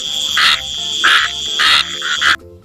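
A frog croaks in four loud, close bursts, spaced about half a second apart, with a faint rhythmic background chorus and no voices.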